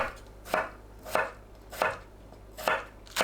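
A knife chops potatoes into half-moon slices on a cutting board, five or six crisp, evenly spaced thuds, close and clear with quiet between strokes.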